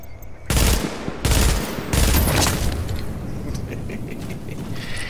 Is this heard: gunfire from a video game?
yes